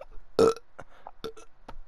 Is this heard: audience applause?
no